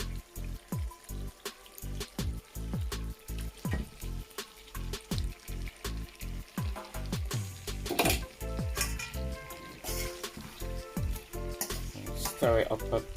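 Ackee added to a pot for ackee and saltfish, sizzling and frying while a spoon scrapes and stirs in repeated rhythmic strokes, close and fairly quiet throughout.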